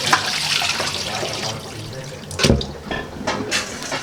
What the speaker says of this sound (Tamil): இப்போ அரிசியை கழுவி நல்லா ஊற வச்சிடலாம்